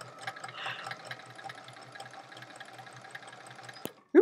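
A sewing machine stitches a quilt block in a quick, even run of needle clatter that continues for several seconds, then stops with a brief thump and a short sound at the end.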